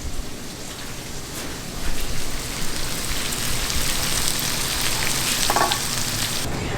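Butter sizzles and crackles steadily in a hot pan with redfish, a close, continuous frying hiss that swells slightly midway.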